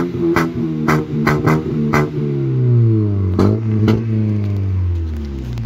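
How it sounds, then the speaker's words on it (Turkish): An Opel car engine revs repeatedly with a roaring exhaust, heard from outside the car on a street in İzmir: several sharp blips followed by longer sustained revs that drop away, loud and close with no talking. "Bu araba dışarıdan daha çok bağırıyor lan"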